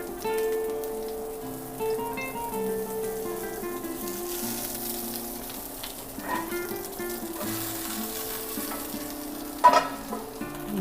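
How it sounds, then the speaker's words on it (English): Lamb loins sizzle steadily on a grill pan in a kitchen, a continuous crackling fry with a brief louder spatter near the end and no speech. "we're going to grill off the lamb loins on both sides"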